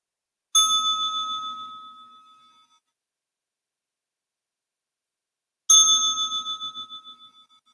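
A tiny handheld bell is struck twice, each a bright ringing ding that decays slowly over a couple of seconds, separated by about three seconds of silence.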